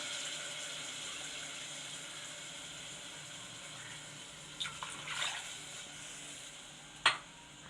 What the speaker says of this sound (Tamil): இப்போ ரெண்டு கிளாஸ் தண்ணி நம்ம ஊற்றிக்கலாம்